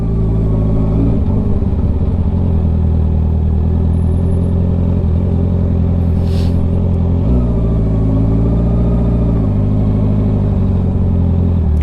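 A motorcycle fitted with an electronic clutch rides through traffic, its engine droning steadily at close range with gear changes and brief revs, accompanied by a constant low rumble.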